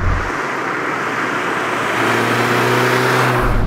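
Autobianchi A112 Abarth with its 70 hp engine revving loudly up close; a steady drone climbs in pitch and grows stronger during the second half, with no voices.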